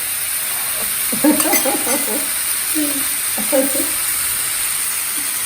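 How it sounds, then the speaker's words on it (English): A constant bright hiss of paneer, rice and vegetables sizzling on a hot sizzler plate, with brief murmured voices partly over it. "Sizzle it like this. See? This is called a sizzler."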